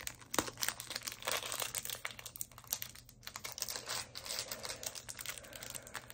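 A Pokémon card booster pack wrapper being worked open by hand, with close, quiet crinkling and tearing of the foil in quick irregular bursts and no voices.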